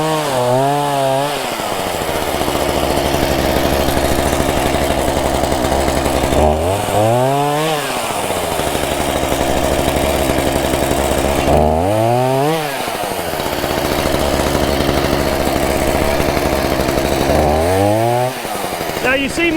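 Loud chainsaw roaring nonstop, its engine pitch dipping and climbing as it bites into wood and revs back up several times.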